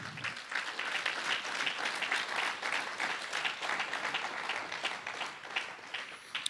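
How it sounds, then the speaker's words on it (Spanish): A church congregation claps for Christ in a Sunday service, a steady, dense round of applause filling the room for several seconds, with no voices on top. "un aplauso fuerte a Cristo"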